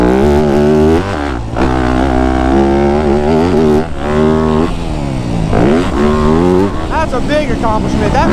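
Yamaha YZ250F dirt bike ridden hard over a track with jumps, its engine loud and close, revving up and down in repeated surges with brief throttle lifts, no talk over it.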